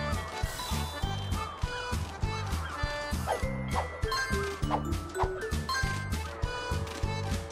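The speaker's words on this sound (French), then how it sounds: "Les oiseaux sont partout sur le chemin." Cartoon birds honk and quack in repeated, rhythmic calls on a path in a PAW Patrol video game, layered over bouncy background music at moderate loudness.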